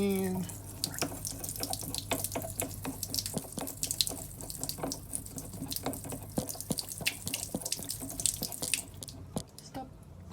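Water drains steadily from a Sprinter van's large water tank, a continuous near trickle with scattered drips and splashes running throughout over a low hum.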